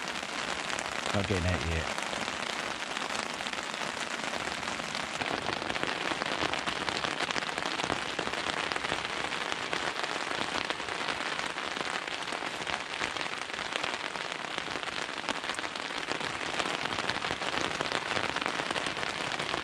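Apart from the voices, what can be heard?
heavy rain falling on a tent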